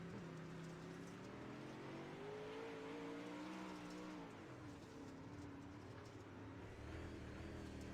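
Modified race cars circling the Lanier Speedway dirt track in a steady, continuous engine roar, with pitch rising and falling as the pack passes at mid distance, heard without talk.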